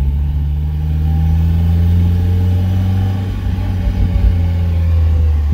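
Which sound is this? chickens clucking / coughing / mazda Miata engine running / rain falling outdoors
mazda Miata engine running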